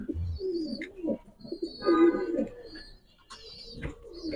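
Pigeons at a farm keeping high flyer, racer and fancy breeds give low cooing calls, with some faint chirps mixed in, spread through the moment at moderate loudness and no talk.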